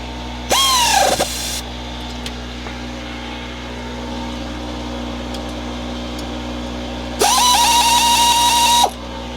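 New wheel bearing bolts are driven in by a powered ratchet, two loud close bursts of whirring, chattering ratchet running, each about a second long, separated by a quiet pause.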